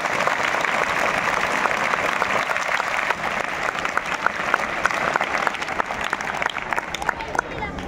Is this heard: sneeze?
no